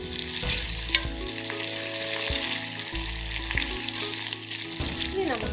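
Spices being stirred in hot oil for Kerala mango pickle, a loud continuous frying sizzle with repeated scraping strokes of a spoon against the pan, close up and without voices.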